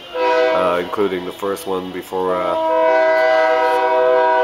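A passing train sounds a long, loud horn, the sustained chord cutting through someone talking briefly early on and then ringing on alone.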